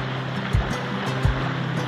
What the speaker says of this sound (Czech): To ticho až plouchání vody.